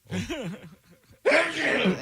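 A single short, sharp human sneeze bursts out after a brief breathy intake, loud and close, preceded by a moment of quiet vocal sounds.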